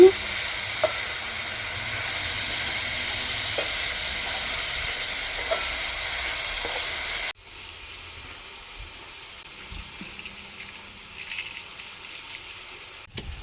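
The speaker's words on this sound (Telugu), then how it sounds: "వీటన్నిటిని ఒకసారి బాగా కలిసేటట్లు కలుపుకోవాలి" Ivy gourd frying in oil in a pan, a steady loud sizzle and hiss with a few stirring scrapes, which drops abruptly to a softer sizzle partway through.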